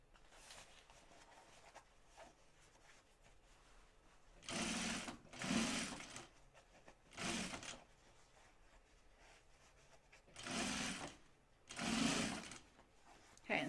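A sewing machine stitches the edge of a fabric bag in five short bursts of rapid rattling whir, each lasting about a second or less with quiet pauses between, close and fairly soft.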